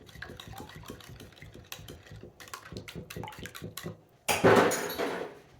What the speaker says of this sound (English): I'm going to mix it with my blending fork first.